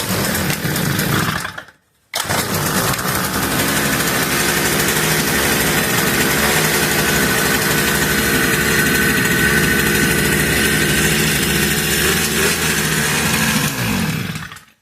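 A Motortec Villain minibike's small engine idling with the choke off on a cold day, a steady close buzzing putter that cuts out briefly near the start, then runs evenly until it stops at the end.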